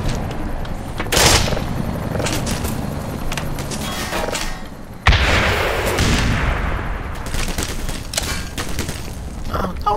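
Gunfire and explosive blasts in Black Mesa crack and boom in a loud, chaotic run, with two sharp heavy impacts standing out amid scattered shots and rumbling combat noise.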